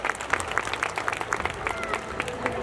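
Audience clapping at a school annual day celebration, a dense patter of many hands under a faint voice.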